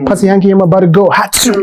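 A sneeze bursts out briefly near the end of a rapper's live performance, tangled in rapid rapped vocals delivered close and loud.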